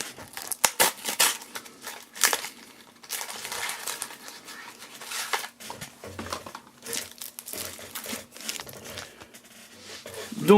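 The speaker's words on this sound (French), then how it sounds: "On ouvre le premier booster." Crinkling foil of a trading card booster pack being torn open, likely a Savage Strike special edition, with close, loud crackling, rustling and ripping bursts coming in irregular waves.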